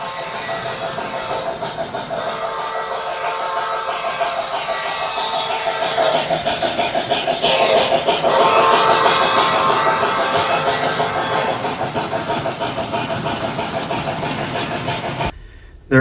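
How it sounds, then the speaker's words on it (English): A miniature American Flyer Berkshire model steam locomotive rumbles and chuffs steadily with a rhythmic mechanical clatter, swelling louder midway and then cutting off abruptly at the end. "Having it slowly chuff and have that smoke pouring out of there like it should is really cool."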